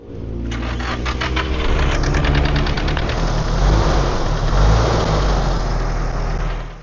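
A drift car's engine cranks and fires after an oil change, then runs loud and close, idling roughly with a few revs rising and falling.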